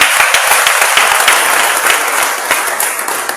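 A church congregation claps and applauds, dense sustained applause that stays loud and near throughout, with no voices standing out.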